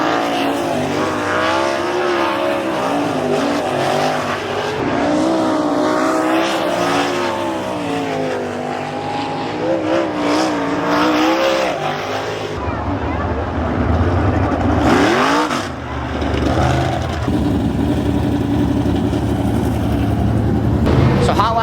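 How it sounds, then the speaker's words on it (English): Sprint race cars running hot laps on a dirt track, a loud continuous engine roar with pitch swells as cars accelerate and pass, steady throughout with faint voices underneath. "We're gonna go do a couple quick hot lap sessions, burn off the grease, and then we're gonna go race."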